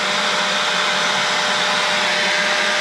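A Harbor Freight Central Machinery 2.5 gallon wet/dry shop vacuum runs with a loud, steady motor whine and airy rushing roar, unbroken and close throughout.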